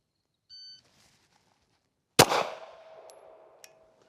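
An electronic shot-timer beep sounds briefly on a range, followed after a pause of over a second by a single sharp pistol shot from a Ruger handgun that rings and echoes as it decays.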